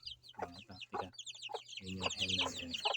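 Hens clucking in a repeated, chattering rhythm inside a new chicken coop holding a batch of hens and a rooster, close and fairly loud, with some higher bird calls mixed in and no speech.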